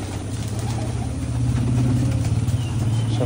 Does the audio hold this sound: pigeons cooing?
yes